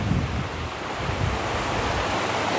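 Water streams beneath a spot near the roadside in Vagamon, Kerala, heard as a steady, loud rushing wash mixed with wind buffeting the microphone, continuous with no voices.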